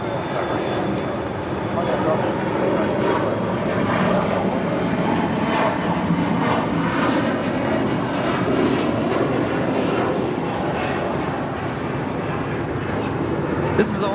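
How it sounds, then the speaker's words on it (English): Alaska Horizon Embraer E175 jet departing Los Angeles International Airport, a loud continuous engine roar with a high whine, while a voice talks over it. "2123 departing to Portland, Oregon on an E175"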